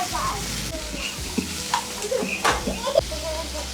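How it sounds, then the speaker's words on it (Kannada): Onions and vegetables frying in a pan, a steady sizzle with occasional clinks of a spoon, under someone talking. "ಈರುಳ್ಳಿ ಎಲ್ಲ ಫ್ರೈ ಮಾಡ್ಕೊಂಡಿದ್ದೀನಿ"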